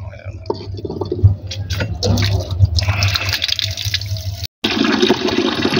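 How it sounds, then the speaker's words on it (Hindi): Tap water pours steadily into a bucket, a loud continuous rush that cuts out for a moment near the end and then resumes. "इधर टूटी में से पानी भर लें"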